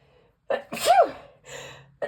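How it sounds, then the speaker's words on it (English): A single close sneeze with a sharp intake of breath before it, followed by a short exhale. "I apologize, I'm going to sneeze."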